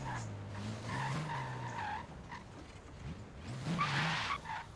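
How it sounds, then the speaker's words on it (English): A rear-wheel-drive race car at a qualifying event does a short burnout, with tires squealing and skidding in long wavering screeches over the engine's revs, close and loud, while a voice talks underneath. "do a small little burnout just to show that you have rear wheel drive"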